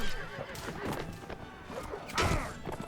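A horse whinnies in the medieval combat game Mount & Blade: Warband during a sword fight with a patrol, a loud neigh rising near the end amid thuds and hoof clatter.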